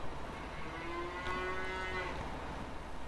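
A single cow moos long and low on a farm, close and clear over a steady background hum, with no talking.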